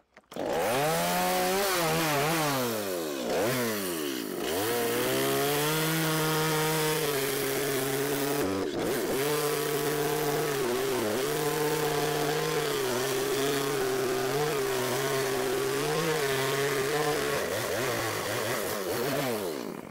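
A gasoline chainsaw roars steadily through wood, its engine pitch rising and dipping as it bites into the cut, loud and close, with one brief break midway.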